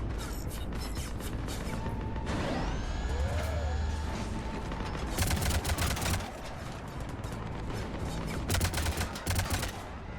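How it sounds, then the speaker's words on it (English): Spaceship cannons fire in Mass Effect, loud bursts of rapid shots over a droning background with a rising whine in between, and a few faint voices. "Cannons engaging."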